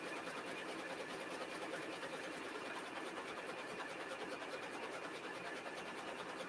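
An embroidery machine stitching hats runs alone with a fast, steady, even mechanical whir and clatter, faint but continuous throughout.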